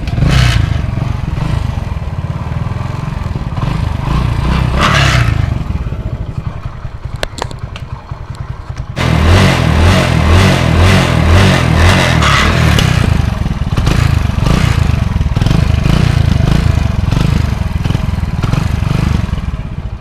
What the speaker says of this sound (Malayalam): ഈ ഒരു ബൈക്കും കൂടെ ജസ്റ്റ് ഒന്ന് സ്റ്റാർട്ടാക്കിയിട്ട് സൗണ്ടും കൂടെ ജസ്റ്റ് ഒന്ന് കേൾപ്പിച്ചു തരാം